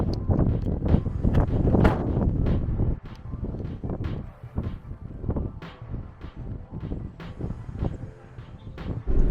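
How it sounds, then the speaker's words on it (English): Strong wind in the northern Kenya desert buffets the microphone with a loud, constant roar and gusty rumbling, no voices. "It's super windy here, so when getting out of the car you have to hold your door."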